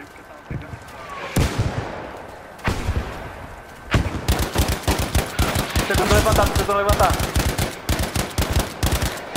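Rapid bursts of Battlefield V gunfire in Firestorm mode, loud and repeated, with brief pauses between volleys while someone talks excitedly in Portuguese over the shooting.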